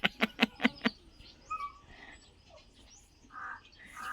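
A crow gives a quick run of five sharp caws close by, then quieter, scattered bird chirps and faint distant calls trail off in a rural outdoor setting.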